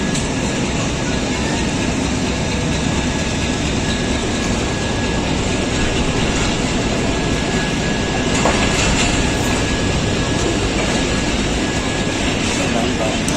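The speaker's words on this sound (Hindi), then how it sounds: "46 डाउन पाकिस्तान एक्सप्रेस अपने टाइम पर रावलपिंडी से रवाना हो रही है।" The Pakistan Express pulls out of Rawalpindi with a loud, steady rumble of railway cars and continuous wheel clatter on the track, heard close from inside the train, with faint voices mixed in.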